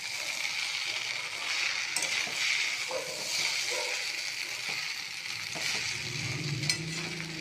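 Rice and broken fish heads are stirred as they fry in a pan for muri ghonto, making a continuous close sizzle with scraping and clattering stir strokes throughout.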